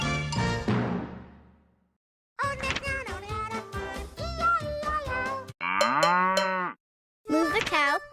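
Cartoon cow moos from a Sesame Street farm-animal app game, several drawn-out lowing calls separated by short silences, loud and close with no talk over them.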